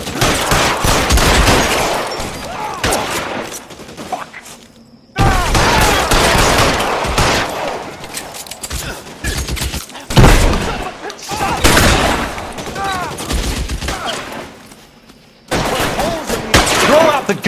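Bursts of gunfire from the LA Noire video game during a shootout at Leland Monroe's mansion: loud, dense volleys of shots that keep going with short breaks, and voices shouting over them.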